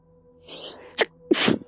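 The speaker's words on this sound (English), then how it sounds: "Oh, apparently I've got big sneezes." Several big sneezes from a person in a sneezing fit, a drawn-out breathy one followed by two sharp explosive bursts, loud and close, with no speech between them.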